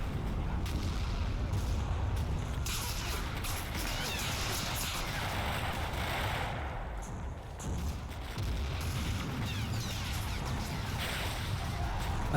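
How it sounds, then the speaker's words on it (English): The Combat Mission Fortress Italy video game plays sustained heavy gunfire and artillery, with dense booms and crackling shots rolling on continuously at a moderate level, with no talk. "As they crest, I come under heavy fire."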